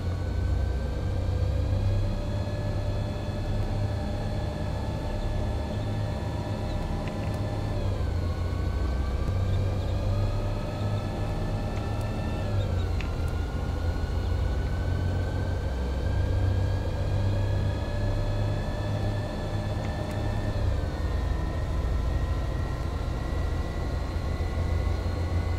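A Solaris bus engine in a bus-driving game holds full throttle with a loud, steady droning whine whose pitch climbs, then drops sharply at each gear change, repeating several times over a constant low rumble.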